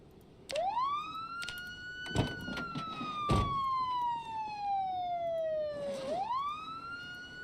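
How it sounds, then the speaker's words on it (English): A loud, close siren in the video game Project Zomboid wails up, slowly sweeps down, then rises again, with a couple of sharp knocks partway through. "I think we can do this siren quickly."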